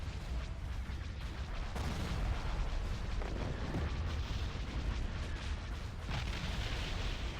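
Ion cannons and heavy explosions in a space battle video game, a continuous loud barrage of booms and blasts rumbling throughout with no pause.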